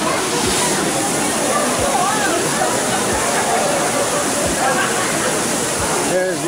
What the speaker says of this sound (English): Callison Falls, been here a few times now. Never get tired of it.